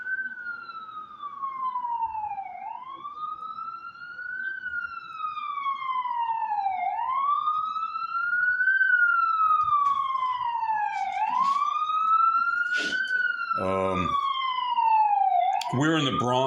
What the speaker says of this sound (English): You hear the sounds of the city outside this very nice workspace.